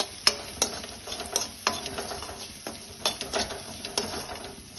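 Bitter gourd masala with coriander powder stirred in a pan over low heat, a steady run of close scraping and clattering stirs with a soft sizzle underneath, no talk.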